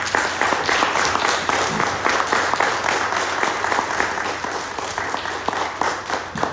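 An audience applauds after a poem is read, with loud, steady clapping from many hands that keeps going without a break and slowly eases off toward the end.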